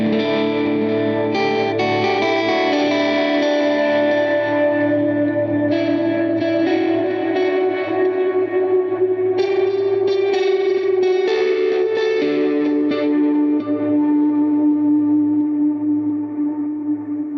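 An electric guitar plays a sequence of clean chords through a Line 6 HX Stomp preset with reduced reverb, each chord ringing clearly with a lighter tail, played loud and alone with no voices.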